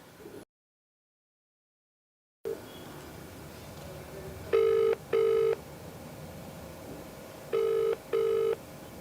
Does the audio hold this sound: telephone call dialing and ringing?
yes